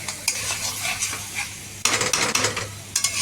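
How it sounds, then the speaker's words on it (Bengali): Goat meat for kosha mangsho is stirred and fried in a pan, with a steady close sizzle under repeated scraping strokes of a spatula against the metal, loud and continuous, with no voices. "খাসির মাংস বানাতে গেলে আপনাকে কিন্তু কনস্ট্যান্ট কষতে হবে"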